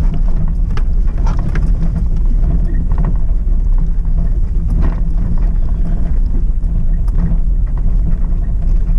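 Rain drums loudly and continuously on a vehicle during an off-road drive on a forest road, a dense steady wash over low engine rumble, no voices.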